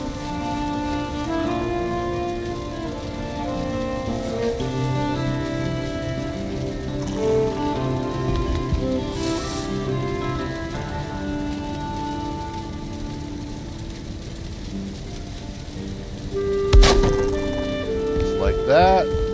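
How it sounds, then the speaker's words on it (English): Rain falling in the video game Valheim, a constant soft patter under background game music and tones, with a brief louder clatter near the end. "Uh-oh, it's raining now."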